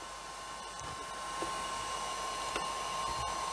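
Brunner Monsun 12V battery-powered hair dryer switched on in a cold workshop, giving a steady mid-level whirring hum with a faint tone, growing slightly louder after a moment, with a few small clicks.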